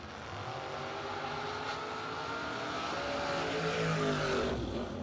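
A Toyota pickup and a Corvette launch side by side in a drag race, their engines roaring and climbing in pitch as they accelerate away, loud and sustained, with no talking over it.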